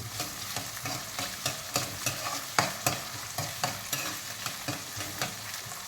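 Fried rice being stirred in a hot pan with salt and pepper, a steady sizzle broken by regular scraping strokes of the spoon, close and alone without voices.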